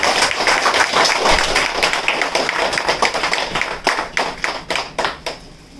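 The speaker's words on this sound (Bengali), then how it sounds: "জোরে হাত তালি সবাই মিলে" An audience at a marketing training award ceremony claps together, loud, dense applause that thins into scattered, separate claps near the end.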